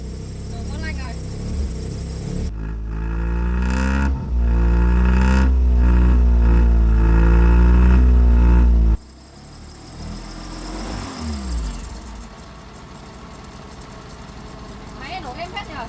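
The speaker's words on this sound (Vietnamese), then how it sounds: "Máy nổ êm hết nhờ." A car engine, newly repaired after being damaged and failing to start, runs at a loud steady idle with a brief rev, then drops away under a quieter background with some talk.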